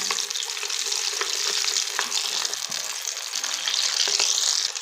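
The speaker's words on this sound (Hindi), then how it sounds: "अब इसे हम फ्राई करेंगे" Pinwheel bites fry in hot oil with a steady, bright crackling sizzle, close and continuous, with occasional small pops.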